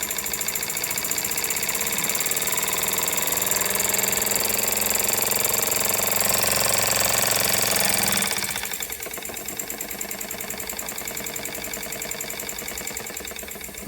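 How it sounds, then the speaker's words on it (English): A Jensen Model 25 toy steam engine runs in reverse close by, a dense steady mechanical chatter and hiss that drops slightly in level after about eight seconds and keeps running without speech. "the engine's now running in reverse"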